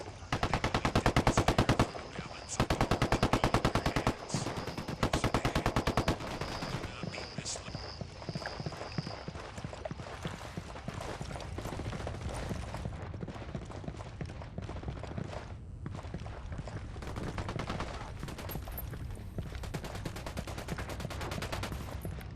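Automatic gunfire from the video game Ghost Recon Wildlands rattles in rapid sustained bursts, loudest in the opening seconds and then continuing as dense overlapping shots.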